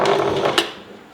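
A sewing machine runs a short reverse stitch on fabric, sewing a shield for a Days for Girls kit. It gives a brief, close mechanical whir with one sharper tick partway through, then fades away.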